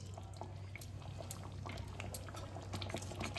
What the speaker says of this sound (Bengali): এবার আমি এর মধ্যে 1 চামচ লেবুর রস দিয়ে দিচ্ছি।